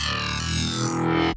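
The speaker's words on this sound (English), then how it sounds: "And then I added some EQ automation to give it a movement," Growly future house bass synth run through distortion, with EQ automation sweeping its tone upward for a moving, snarling texture; a sustained, fairly quiet electronic drone heard alone, cutting off abruptly.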